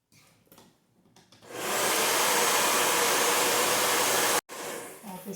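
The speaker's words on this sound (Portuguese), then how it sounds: "eu já acelerei no secador" A hair dryer blows steadily and loudly to dry paint on an MDF box, its whoosh running unbroken for about three seconds, cutting out briefly, then resuming.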